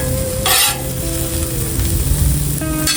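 A western omelette cooks on a flat griddle with a loud, steady sizzle close by, punctuated by a couple of brief scraping strokes.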